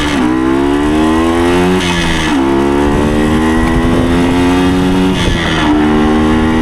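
A 1975 Suzuki TS125 "Duster" motorcycle engine revs loudly and close, pitch climbing through each gear before dropping at the shifts, about three upshifts in a steady run.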